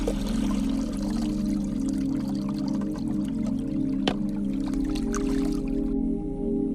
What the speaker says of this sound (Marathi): व्यवस्थित असं चिकन धुवून घ्यायचं आपल्याला.